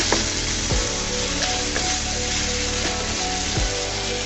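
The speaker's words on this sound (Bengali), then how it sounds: "দু তিন মিনিট ভাজার পরে আমি বেগুনটাকে উঠিয়ে নিচ্ছি" Eggplant pieces fry in oil, making a dense, steady hiss that stays loud throughout, broken by a few soft spatula knocks against the pan.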